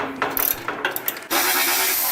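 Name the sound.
removing fender strut bolts on Softail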